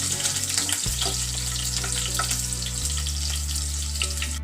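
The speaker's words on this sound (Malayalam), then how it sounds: "ആദ്യമായി നമ്മൾ വെളുത്തുള്ളി ഇട്ട് കൊടുക്കുക." Garlic sizzles steadily in hot cooking oil, a loud, continuous frying hiss with a low hum running beneath it and no voices.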